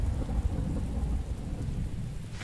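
Thunder rolling after lightning during a rainstorm in a game, a low continuous rumble under steady rain with a sharper crack at the very end.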